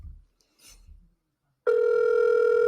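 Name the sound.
phone calling a number on speaker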